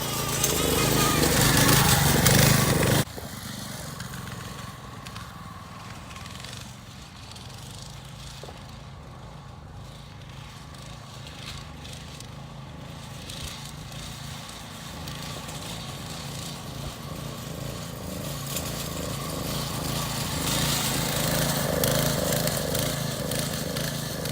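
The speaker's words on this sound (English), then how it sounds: "I don't know why the go-kart is oscillating like that." A small go-kart engine runs at a track, a continuous mid-pitched drone that surges and oscillates unevenly, starting louder before dropping to a steadier idle-like hum, with voices talking over it.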